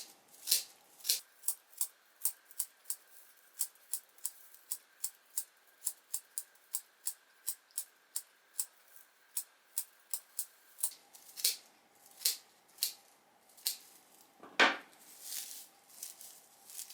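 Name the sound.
scissors trimming whisk broom fibers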